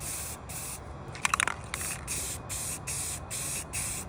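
Rust-Oleum spray paint hisses from a can onto an RZR side-by-side during a paint job, in a steady string of close, evenly spaced bursts, with a few small clicks and scrapes early on.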